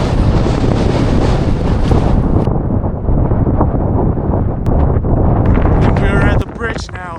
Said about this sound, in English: Display how strong the wind is and it's throwing me off balance.